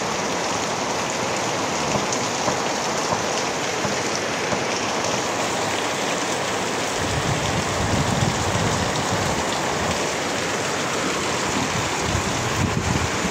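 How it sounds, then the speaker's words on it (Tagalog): Heavy rain pours steadily onto surfaces outdoors near a vegetable garden, a dense, continuous roar that holds loud throughout with faint wind noise mixed in. "Grabe lakas ng ulan na to guys"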